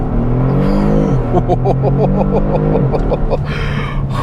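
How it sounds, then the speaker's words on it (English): A 2022 Kia Stinger GT1 engine revs hard and close during a brake boost, climbing and pulsing in pitch against the brake, then settling to a rough, loud idle. "Let's brake boost it, put my foot on the brake and accelerator."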